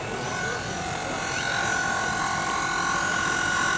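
A model helicopter's motor whines steadily with a high, buzzing drone, continuous and fairly loud throughout, at an outdoor model show.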